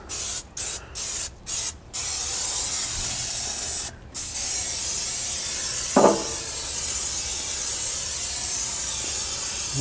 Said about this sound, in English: Now we're going to spray that down now with some more canola oil.